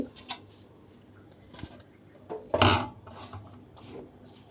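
Fried potatoes are ground into a mash, producing several separate rasping, scraping strokes close up, with quiet gaps between them.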